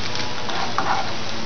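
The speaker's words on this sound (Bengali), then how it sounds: "আদা আর পেঁয়াজের যে পেস্টটা বানিয়ে রেখেছিলাম সেটা এখানে ঢেলে দিলাম।" Ginger and onion paste tipped into a hot pan with garlic paste over low heat gives a close, steady hissing sizzle, like light rain, across the brief moment.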